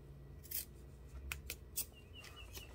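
Scissors snip through the corner of sewn bag fabric in a few quiet, crisp cuts, faint against low room hum.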